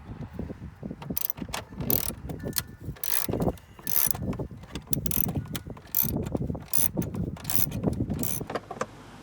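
Ratchet clicking in quick bursts while loosening an instrument cluster bolt on a 2008 Chevy Equinox, close and fairly loud, with short pauses between strokes and no talking.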